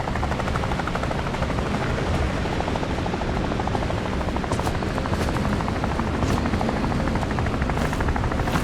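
Helicopter in the video game Phantom Doctrine: a steady, loud rotor roar and drone fills the whole stretch without a break, with faint higher blips scattered over it.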